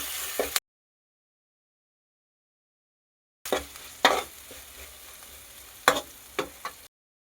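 Spoon stirring macaroni pasta with soy sauce in a pan, with soft scraping and sizzling strokes in two bursts separated by a long silent gap.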